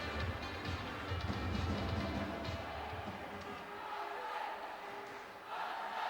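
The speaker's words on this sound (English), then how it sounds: "Fair play to the Basingstoke fans who've come out to cheer on the Bison." Fans of the Basingstoke Bison ice hockey team cheer and chant in an indoor arena during a game against the Coventry Blaze. The crowd roars steadily with rising and falling waves of noise, and a commentator's voice runs over it.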